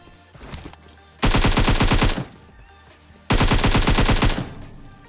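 Two sustained bursts of AKM automatic rifle fire in PUBG Mobile, each about a second long, loud and rapid with a steady rhythm, separated by a short gap of quieter game ambience.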